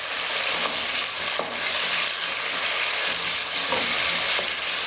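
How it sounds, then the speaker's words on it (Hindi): Large potatoes frying in oil in a pot for degi aloo gosht, a dense, loud, unbroken sizzle with faint stirring knocks, no talk. "माशाल्लाह से आलू बहुत अच्छे से फ्राई हो गए।"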